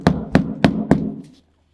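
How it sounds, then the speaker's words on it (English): Four evenly spaced sharp taps from a poly hammer driving tubing fittings into a Feelfree Lure 11.5 V2 kayak hull, close and dry, ending in a brief faint rattle. "I just use a poly hammer to do it."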